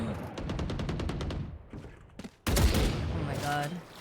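Rapid gunfire from the Outlaw gun in the video game Valorant: a quick string of repeated shots, a brief lull, then a loud, dense burst of firing and game noise, with voices mixed in.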